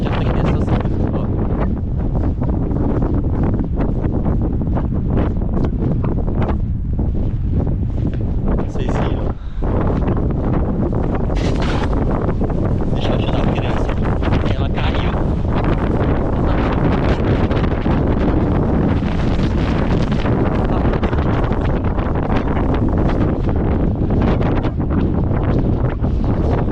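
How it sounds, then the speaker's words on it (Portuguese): Strong wind blows outdoors in Russia, a constant loud roar of gusts buffeting the microphone throughout with faint rustling underneath. "Aí o vento foi mais forte do que ela."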